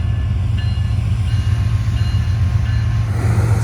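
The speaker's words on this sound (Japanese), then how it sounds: "2両のディーゼル機関車がまた山間部を抜けていきます。" A long container freight train hauled by two diesel locomotives rolls through mountain country in Canada, a loud steady low rumble of engines and wagons passing close by with a faint high squeal over it.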